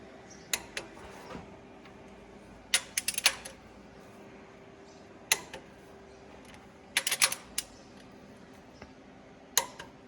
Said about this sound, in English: That's the one nice thing of these torque wrenches that click like that.